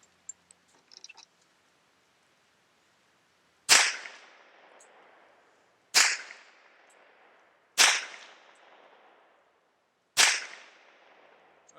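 Four sharp gunshots from a Brevete Reform pocket pistol in .25 ACP, evenly spaced about two seconds apart, each a loud crack with a short decaying tail, after a few faint handling clicks.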